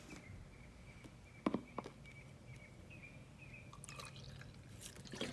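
Liquid, 3 ounces measured out, is poured into a container in a faint trickle broken by a few sharp drips and splashes, quiet and close with no talking.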